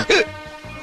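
A single sharp hiccup sounds close by, a sudden voiced catch that fades quickly into quiet.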